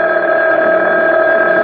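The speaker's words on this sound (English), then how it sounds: "There's the phone." Telephone in a radio drama ringing with a steady electronic tone, a single sustained, clear, close ring with no talk over it.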